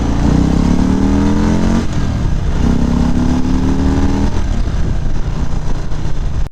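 A 2018 Harley-Davidson Street Bob motorcycle under way, its engine a loud, steady, close rumble with rising tones as it pulls through gears, wind noise underneath throughout.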